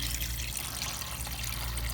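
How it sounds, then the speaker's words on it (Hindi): Water pours steadily into a cooking pot of chicken breast fillets, a continuous gushing stream lasting the whole moment with no voices. "4 कप पानी में डाल रही हूँ इसमें"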